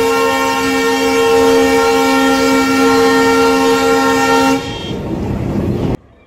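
A train on a high-speed trial run along the Madurai–Theni broadgauge railway line sounds a long, loud, steady horn blast for several seconds, which cuts off into the rumble of the passing train before sudden silence.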